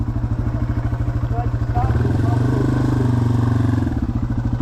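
A Yamaha TW200 motorcycle rides a mountain trail toward Lewis Peak, its single-cylinder engine thumping steadily and loudly close by, with a slight rise in revs midway and some clatter over rough ground.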